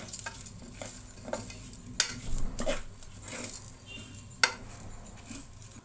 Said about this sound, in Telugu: కొంచెం దోరగా వేగింది వేగుతుంటే మంచి స్మెల్ వస్తుంది